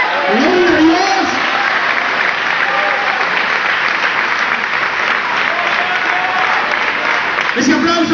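A church congregation claps loudly and steadily, a broad, sustained wash of many hands, with a voice speaking over it at the beginning and again near the end.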